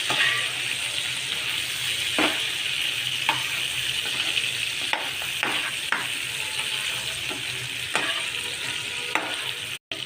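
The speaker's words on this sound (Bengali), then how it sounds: "সর্ষের তেল ভালো করে গরম করে লো টু মিডিয়াম ফ্লেমে কাঁকড়াগুলো সামান্য নুন আর হলুদ গুঁড়ো দিয়ে ফ্রাই করে নিচ্ছি" Crabs fry in hot mustard oil with salt and turmeric over a low to medium flame. A continuous bright sizzle runs throughout with occasional clacks of shells and utensil, then cuts out abruptly at the very end.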